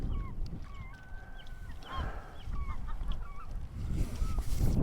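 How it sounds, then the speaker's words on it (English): Herring gulls on the end of a dock give repeated honking calls and squawks, fairly close, over low wind and water noise. "Two herring gulls on the end of the dock."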